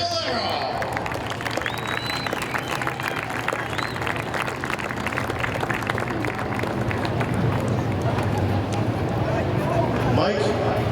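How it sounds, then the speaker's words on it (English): A speedway crowd at Seekonk Speedway applauds a Sports Truck feature winner in Victory Lane. The clapping and cheering is sustained and fairly loud, with a voice talking over it. "A round of applause for Seekonk, Mass's Mike Cavallaro."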